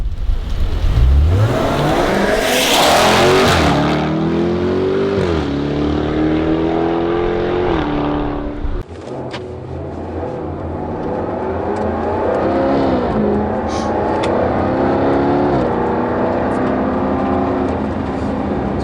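A 600PS Jaguar Project 8 driven on the Goodwood track in four-wheel drive, its engine loud and close, revving up through rising gear pulls, then dropping briefly before building again.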